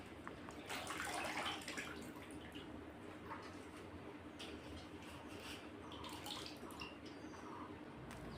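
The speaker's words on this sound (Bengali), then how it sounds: "আর সবজিটা ভালো করে ধুয়ে নিলাম।" Water runs steadily while vegetables are washed by hand, a continuous close splashing wash with a louder surge near the start and faint drips and sloshes throughout.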